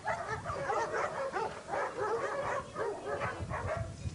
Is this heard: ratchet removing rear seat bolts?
no